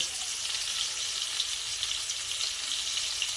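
Onions sizzle and fry in hot oil in a pan for an egg curry, a dense, steady crackling hiss that holds even throughout, with no voices.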